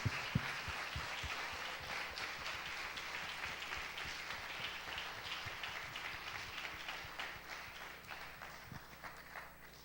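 A large church congregation claps continuously in a dense, fairly distant wash of applause, with a few louder thumps near the start.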